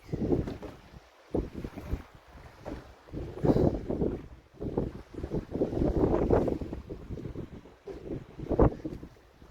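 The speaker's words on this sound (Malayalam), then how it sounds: "മിന്നറിയുന്നുണ്ട് നല്ല കാറ്റുണ്ട് മഴയില്ല" Strong gusty wind buffets a fishing boat far out at sea at night, rising and falling in loud roaring surges against the microphone, with the deep rumble of the boat beneath.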